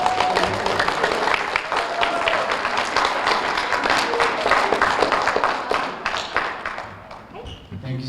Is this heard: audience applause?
yes